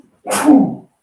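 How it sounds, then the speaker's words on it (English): A single close sneeze from a person, one short sharp burst standing alone in an otherwise quiet room. "I'm going to sneeze"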